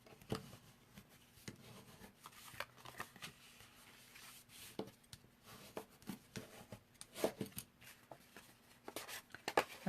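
Paper card is folded by hand, giving soft, close rustles, rubs and creases in irregular bursts, quiet throughout with no talking.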